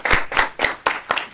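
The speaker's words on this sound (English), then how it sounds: "Can we give her another round of applause?" Six separate, evenly spaced hand claps from a small group at a research seminar, sharp and fairly close, with a short pause between each.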